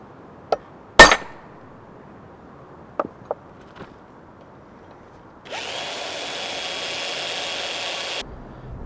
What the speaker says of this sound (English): The next thing to do is to drill 3 holes for the rivets that will hold the handle on.